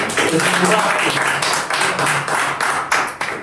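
Audience claps on an Indonesian talk show in a lively, uneven burst with distinct individual hand slaps, while voices carry on over the clapping.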